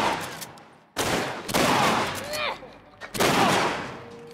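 Loud gunshots and bursts of gunfire in The Last of Us, three heavy volleys separated by brief lulls, with hostile gunmen firing close by and echoing debris between shots.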